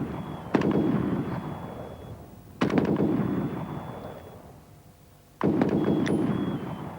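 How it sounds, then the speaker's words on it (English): Gunfire during an infantry attack exercise: three sharp reports roughly two to three seconds apart, each followed by a long rolling echo that fades across open ground, loud and alone with no talk. "and covering fire continues."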